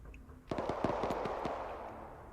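Rapid bursts of gunfire in Arma 3 during a Cold War Mujahideen operation, a quick string of sharp shots rattling off at mid distance over a steady wash of battlefield noise, with no talking.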